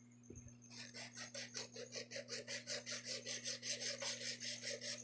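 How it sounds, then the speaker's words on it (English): Steady rhythmic rasping of a hand file shaping an acrylic nail, about twenty even back-and-forth strokes close up over a constant low electrical hum. "So I'm just going to be hand filing this one."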